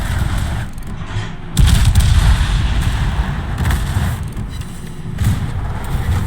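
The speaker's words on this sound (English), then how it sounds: "Now we do get a 16K salvo there." Heavy naval guns of the cruiser HMS Gibraltar fire a salvo in a warship video game, a loud booming blast near the start followed by sustained low rumbling and further thuds.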